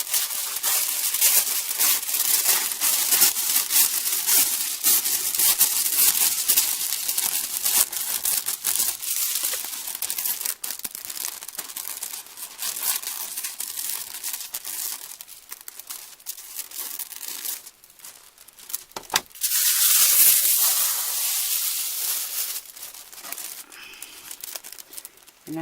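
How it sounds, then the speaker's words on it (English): Paper being cut around a board for a gift-box centerpiece, a steady close crinkling and rustling with scissor snips that runs continuously, briefly pausing near the end before resuming. "Now I'm going to turn it over, and I'm going to cut around the board"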